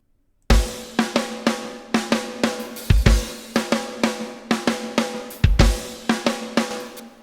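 A snare drum with added reverb plays in a live-song mix, struck in a steady rhythm of sharp hits with decaying tails and a few heavier accents, loud and close with no talking.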